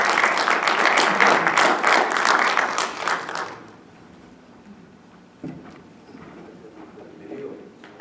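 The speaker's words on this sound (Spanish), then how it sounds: "Llamamos pues con un aplauso fuerte al doctor honoris causa Román Díaz Vázquez." An audience at a congressional human rights event applauds loudly for about three seconds, the clapping then fading to scattered claps and room noise with faint talk.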